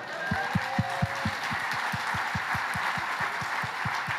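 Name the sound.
audience applauding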